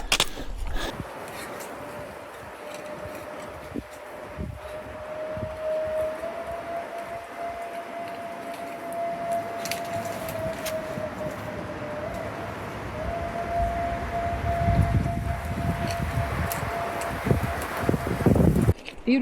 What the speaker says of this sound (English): You can hear a train blaring its horn close by